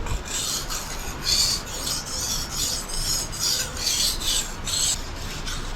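Repeated rasping strokes of a blade drawn across a whetstone, steady and fairly close, roughly two strokes per second, with no voices.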